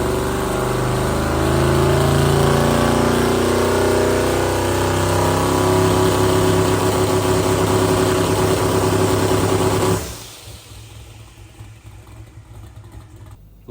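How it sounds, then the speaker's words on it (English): Car engine with big turbos running at a loud, steady rumble and held revs for about ten seconds, then dropping away to a quieter idle, close to the listener. "start it up again and maybe give her a bit of a rev"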